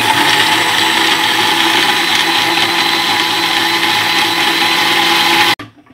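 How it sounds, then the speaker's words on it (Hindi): A blender grinds boiled tamarind and pitted plums in a juicer jug, a loud steady whir that holds for several seconds before cutting off abruptly and winding down. "अभी हम जूसर में जग में इसको हम ग्राइंड करेंगे"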